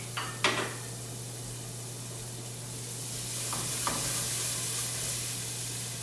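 Chopped shallots sweat gently in a hot pan at the start of a shrimp dish, a soft continuous sizzle with a few light clinks of a utensil against the pan and a steady low hum underneath.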